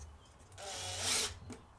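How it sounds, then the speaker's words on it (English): A short, fairly quiet whir of a power drill drilling wood rises and fades within about a second. "Let them play with the drill."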